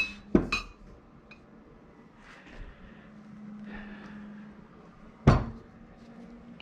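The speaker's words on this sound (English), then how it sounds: "A few more hammers for the bushing." A bushing is hammered out of a GPX FSE300R motorcycle fork, with a couple of sharp metallic strikes at the start and another hard blow later, separated by quiet handling noise.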